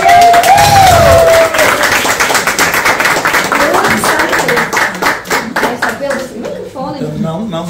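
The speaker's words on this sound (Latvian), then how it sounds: "Sagaidām ar aplausu!" An audience claps to welcome a speaker at a tripeptide collagen presentation. A voice talks over the opening seconds, then scattered, fairly close handclaps build into a rhythmic round of applause that tapers toward the end.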